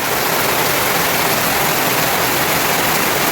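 Loud, steady roar of rushing floodwater in a hill village during heavy rain fills the whole clip, a dense broadband wash close by with no break.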